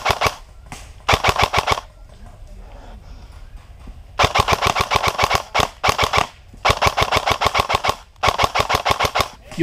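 ASG CZ805 Bren airsoft rifle with a Gate Titan V3 unit fires rapid bursts of sharp, evenly spaced shots, several strings broken by short pauses, loud and close, with no talk.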